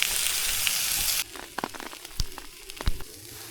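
A steak fries in a pan at a camp cooking spot, first as a loud, steady sizzling hiss, then easing into quieter, scattered pops and crackles with no talking.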